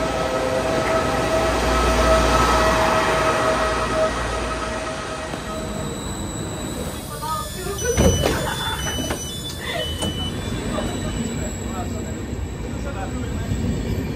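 A passenger train ride to Montecatini Terme in Tuscany, Italy, heard from inside the carriage: a steady rumble of wheels on rails with squealing and clattering joints, loud and continuous, with voices faintly underneath.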